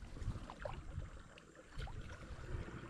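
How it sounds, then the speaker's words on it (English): A paddle strokes the water on a remote river, with soft splashes and dips at an irregular rhythm over low rumbling wind noise, close and fairly quiet with no voices. "He seems to be having a good time paddling around the remote river."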